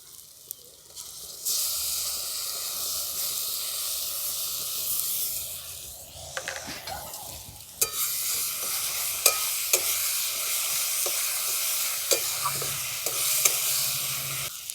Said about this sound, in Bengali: রসুনটা ভাজা ভাজা করে নিয়েছি